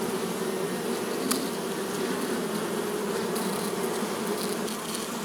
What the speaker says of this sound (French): les abeilles essayent de rentrer.